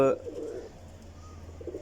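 Teddy Golden flying pigeons give a soft, low cooing close by, murmuring faintly and steadily after a brief louder sound at the start.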